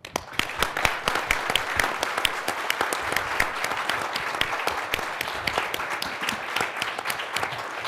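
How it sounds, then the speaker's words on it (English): An audience at the National Press Club applauds astronaut Scott Kelly, with many distinct claps forming steady, moderately loud applause that carries on alone for several seconds. "the audience wants to show its appreciation by giving you some applause"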